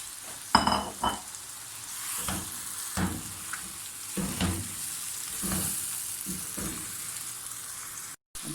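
Chicken and tomatoes frying in a pan for a restaurant-style Patiala chicken, a steady sizzle broken by several louder crackling bursts and stirring scrapes near the start, continuing evenly throughout.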